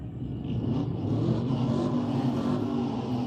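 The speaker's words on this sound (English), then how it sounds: "a noisy truck." A loud vehicle engine rumbles steadily and close by throughout, heavy and continuous like a noisy truck driving past on a street during a hot rod event in Pigeon Forge, Tennessee.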